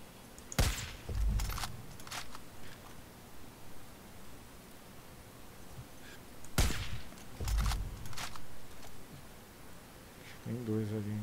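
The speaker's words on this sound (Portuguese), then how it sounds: "Vou tentar dar mais um tiro nesse cara aqui." Two loud single gunshots crack in a video game shooter, several seconds apart, each followed by a brief low rumble, with quiet ambient noise between them.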